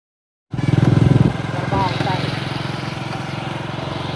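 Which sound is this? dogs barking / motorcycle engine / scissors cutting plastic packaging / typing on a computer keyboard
motorcycle engine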